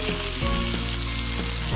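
Rib-eye beef steak just flipped in a hot pan sizzles loudly and steadily, a dense, close crackling hiss throughout.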